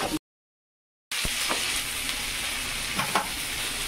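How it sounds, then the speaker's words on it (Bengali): Sliced onions fry in a pan, a continuous close sizzle with a couple of soft stirring knocks. It follows a brief silent gap at the start, with no one talking. "পেঁয়াজটা কষানো হয়ে গেছে"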